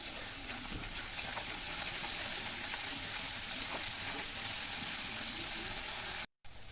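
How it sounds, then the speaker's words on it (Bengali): Spice masala with red chili powder and a little sugar sizzles and fries in a pan for a khichuri, a soft, continuous hiss that runs steadily and then cuts out briefly near the end. "এখানে এক চামচ মতন আমি লাল লঙ্কার গুঁড়ো দিয়েছি দিয়ে মশলাটাকে ভালো করে কষিয়ে নিতে হবে"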